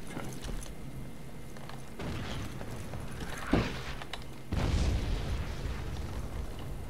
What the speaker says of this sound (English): Michael Bay explosion!